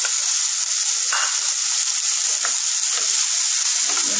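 Carrots and beans fry in a pan for egg tadka, a loud continuous sizzle and hiss filling the whole clip, with a few faint clicks of stirring.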